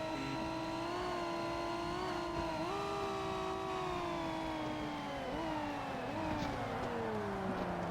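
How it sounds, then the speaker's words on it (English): A race car engine in the video game Forza Motorsport whines at high revs, its pitch climbing and dipping with gear changes, steady and electronic-sounding with no talk. "It doesn't sound like I'm revving as high as I am. I keep over-revving it."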